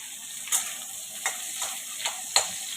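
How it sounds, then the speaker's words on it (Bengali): Potatoes fry in a pan for paneer curry, a steady soft sizzle with a few sharp clinks of a utensil against the pan spaced through it, no talking. "আলুটা ভেজে নিচ্ছি বন্ধুরা।"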